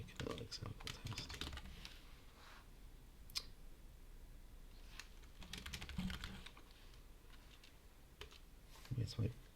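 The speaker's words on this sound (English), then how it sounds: "Where's my backslash on this keyboard?" Typing on a computer keyboard during a live coding stream writing Drupal core tests, with scattered bursts of clicking keystrokes under intermittent talk.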